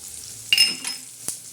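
Garlic hits hot oil for tempering in a shev bhaji, bursting into a short, hissing sizzle, followed by a faint stirring scrape and a light clink of utensils.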